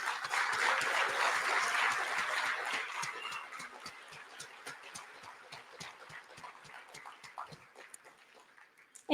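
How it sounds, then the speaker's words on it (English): An audience at a tribal and U.S. EPA regional conference claps for awardees, with dense applause that fades over several seconds into scattered individual claps. "let's give applause for all our awardees"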